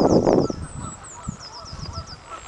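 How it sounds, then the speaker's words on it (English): Geese at Hainault Forest Country Park give a series of nasal honks, about a dozen evenly spaced calls from a short distance. Faint background noise and a brief low voice lie underneath them. "Oh, there's geese here."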